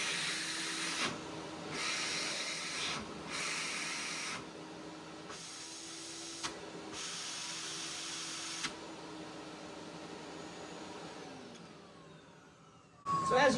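A 1976 JCPenney canister vacuum cleaner runs with a steady, close motor whine. Airy suction hiss swells and drops in several bursts before the motor winds down.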